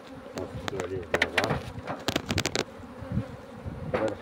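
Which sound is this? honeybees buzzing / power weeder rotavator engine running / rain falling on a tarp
honeybees buzzing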